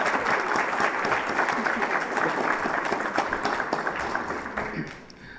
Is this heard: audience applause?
yes